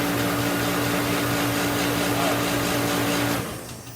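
A repaired Master space heater lights and roars steadily, a loud, even blower-and-flame rush with a low hum. Near the end the roar drops off sharply.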